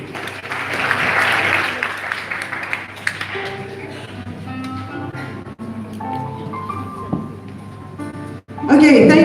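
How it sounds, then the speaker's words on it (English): Applause from a press conference audience at Malaysia Fashion Week for the founder and CEO of Style International, loud and dense at first, then thinning into scattered claps and murmuring voices before a sudden burst at the end. "a round of applause for the founder and CEO of Style International"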